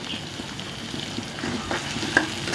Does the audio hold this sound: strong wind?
no